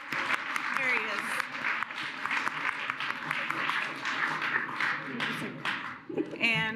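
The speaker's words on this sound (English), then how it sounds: "let's give you a round of applause" Scattered applause from attendees at a county council caucus meeting, uneven claps of moderate loudness mixed with voices talking underneath, tapering near the end.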